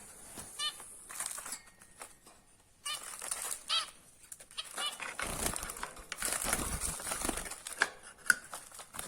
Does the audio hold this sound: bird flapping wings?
yes